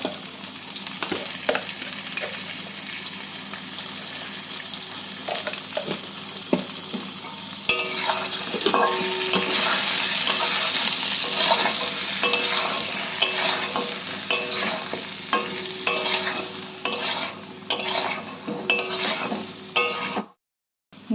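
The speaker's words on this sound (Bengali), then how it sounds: "এবার বেগুনে আমরা পরিমাণ মতন হলুদের গুঁড়ো এবং লবণ দিয়ে ভালো করে ভেজে নেব।" Eggplant pieces with turmeric and salt fry in a pan, a dense, steady sizzle joined by frequent spatula stirring and light metallic clinks close by.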